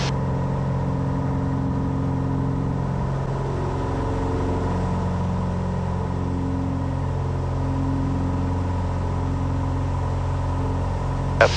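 Diamond Star light aircraft engine at takeoff climb power, a steady loud drone with strong low harmonic bands that holds unchanged throughout, with no voices over it.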